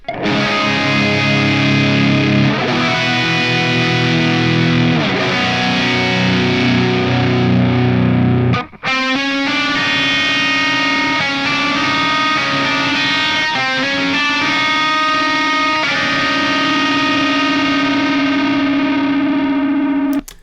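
Heavily distorted electric guitar playing chugging chords and sustained notes, loud and continuous with a brief pause midway, no voices.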